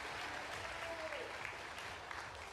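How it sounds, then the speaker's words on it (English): An audience gives steady applause for the Artemis III prime crew at the crew announcement, a continuous wash of many hands clapping at moderate distance, without pause. "let's give Par, one more round of applause for your Artemis III prime Parmatino, crew."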